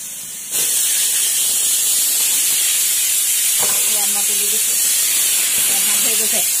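A pressure cooker cooking chicken with taro greens lets out its whistle, a loud, continuous hiss of escaping steam that starts abruptly and keeps going, with faint clatter beneath.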